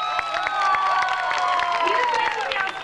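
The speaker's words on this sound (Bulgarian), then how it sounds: "Аплодисменти за момичетата." An audience claps and cheers for a group of girls placed third at a prize announcement, a steady burst of mixed hand claps lasting a few seconds with crowd noise and some voices underneath.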